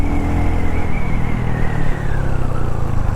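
A loud, steady engine drone from a Royal Enfield Hunter 350 motorcycle being ridden, heard up close with rumbling road and wind noise and a slight falling pitch.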